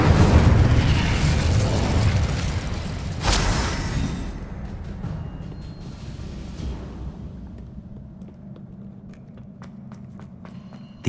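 An Incendio fire spell bursts in Hogwarts Legacy during a Pensieve boss fight, a loud whooshing blast that peaks around three seconds, then trails into a low rumble with faint crackles and thuds.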